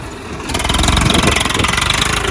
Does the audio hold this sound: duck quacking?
no